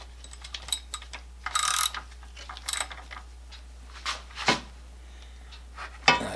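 A ratchet tightening bolts while assembling a restored Mac Timber Bear chainsaw, with bursts of rapid close clicking separated by pauses and small metallic handling noises.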